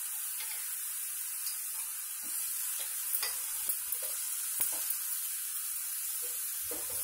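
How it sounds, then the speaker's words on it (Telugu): Onion paste fries in an iron pan with ginger garlic paste, giving a steady close sizzle with bursts of stirring and scraping throughout. "మనకి ఆనియన్ పేస్ట్ వేగుతుంది. ఇప్పుడు దీంట్లో అల్లం వెల్లుల్లి వేసుకుందాం."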